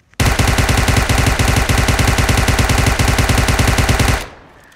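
UMP submachine gun firing in PUBG Mobile with a flash hider, one long unbroken burst of rapid, evenly spaced shots that is loud and close, then cuts off into a short fading echo.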